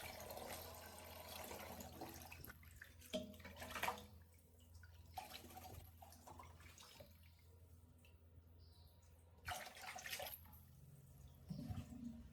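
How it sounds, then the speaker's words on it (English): Clean water runs over a shower head being rinsed after a vinegar soak, a steady low splashing stream with brief louder gushes, close and alone without talk. "I rinse the entire shower head under clean water to remove the vinegar smell"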